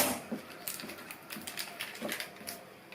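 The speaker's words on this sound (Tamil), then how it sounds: "கட் பண்ணிட்டு அதுக்கப்புறமா இலைகளை மட்டும் கட் பண்ணிக்கலாம்" A knife cuts through spinach stems and leaves on a board, making a series of close, crisp chopping taps in an uneven rhythm, fairly quiet, with no talk.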